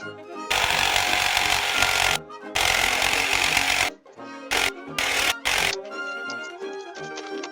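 A power tool cutting the overlapping wood of a 1939 Stromberg Carlson Model 430-H radio cabinet, loud buzzing bursts of cutting separated by brief pauses, then short stop-start runs and a fading whir, close up.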